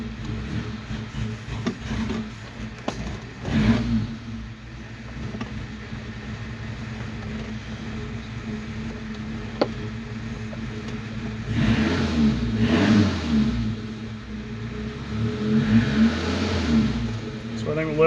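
A 1987 Suzuki Samurai 1.3 engine idles after a carburetor swap, a steady low mechanical hum with a couple of brief rises in revs, close by and alone without talk.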